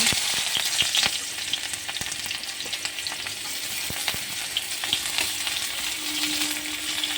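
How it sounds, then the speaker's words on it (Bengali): Bitter gourd pieces frying in a pan, giving a continuous dense sizzle with scattered sharp crackles and the occasional scrape of stirring, heard up close with no talking. "আর এখানে একটা আমি ভাজা করছি"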